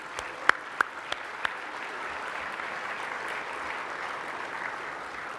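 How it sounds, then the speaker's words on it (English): Steady applause from a dinner audience at an awards event honoring the board of directors, a few sharp isolated claps at first swelling into continuous even clapping for several seconds. "So if I could get a big clap for the board."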